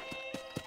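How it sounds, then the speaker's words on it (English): A horse in Red Dead Redemption clip-clops along, three quick hoof strikes in an even rhythm, fairly faint and close, with no talking. "there's a horse"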